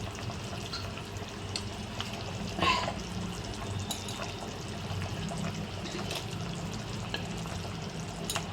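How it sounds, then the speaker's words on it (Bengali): Rohu fish pieces go one by one into boiling curry, a steady bubbling simmer with a short splash-like burst partway through and faint clinks, moderately quiet and close. "এখন আমি মাছগুলো একে একে দিয়ে দিচ্ছি"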